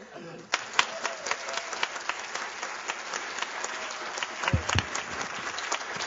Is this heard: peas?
no